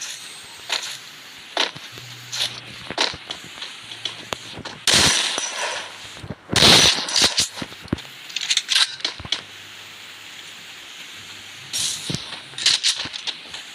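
Gunfire rattles through a round of the Free Fire mobile battle royale, with short bursts and single shots scattered throughout, several loud, close bursts around the middle, over a low game background hum, with no speech.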